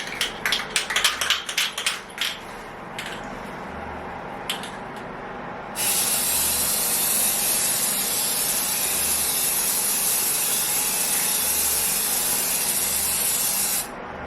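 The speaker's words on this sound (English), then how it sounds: "Hold can upright 10 to 16 inches from surface and spray in steady back and forth motion" A few light rattles and clicks, then a long, steady, close spray hiss as a spray paint can coats bathroom tile, running for several seconds before cutting off abruptly.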